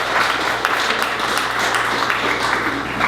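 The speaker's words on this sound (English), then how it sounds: "Everybody give Danny a round of applause" An audience at a Richmond City Health District press event for a health prize applauds for Danny, with steady, dense clapping that lasts the whole stretch at an even level.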